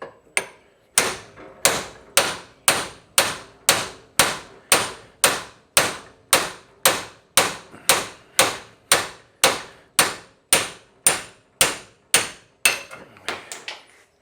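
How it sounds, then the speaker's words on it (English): A hammer strikes the ball joint on a Honda TRX350TM quad about twenty times in a steady rhythm, each sharp metallic tap close and loud, with the last few blows lighter and quicker. "now we'll give that thing a little tappy tap and see if she moves"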